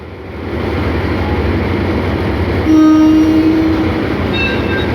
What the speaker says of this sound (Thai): มาแล้วนะครับ ก็นำขบวนโดยฮิตาชินะครับ